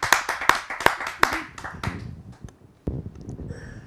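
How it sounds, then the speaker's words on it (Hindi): A small audience at a Hindi poetry gathering (kavi sammelan) welcomes a poet with a few sharp, evenly spaced claps that quickly thin into scattered, uneven taps before one last clap. "आप सबकी जोरदार तालियों से उसे आमंत्रित करते हैं।"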